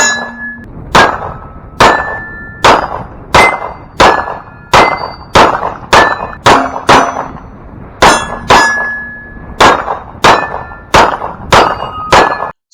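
A Sig M17 pistol fires rapidly at steel targets on a range: about twenty sharp, loud shots in a quick, steady rhythm, each followed by a ringing metallic clang from the steel, with no talking.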